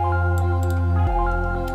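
A deep synth bass from the Serum plugin, dropped an octave lower, drones loud and sustained beneath a layered electronic track, with a note change about halfway through.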